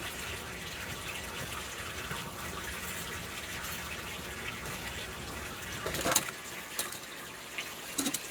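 Water running steadily into a rinsed plastic container in a garden for seedlings, an even pouring rush that eases off near the end, close and alone.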